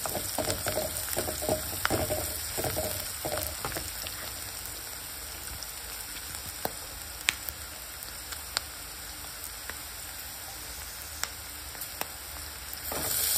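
Vegetables frying with turmeric in a pan, a steady soft sizzle and crackle running throughout with scattered small pops and stirring clicks, fairly close and moderately quiet, with no talk.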